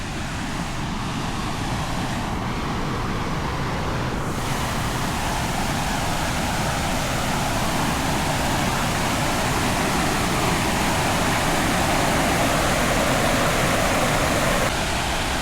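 Coal Run Falls in the Laurel Highlands pours steadily, a broad continuous rush of falling water heard from nearby, constant and unbroken, with no voices.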